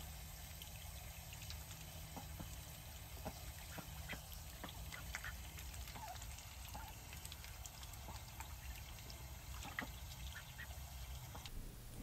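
A new pet duck on a farm pond quacks intermittently in short, scattered calls, distant and fairly faint, over a steady low background hum with no talking.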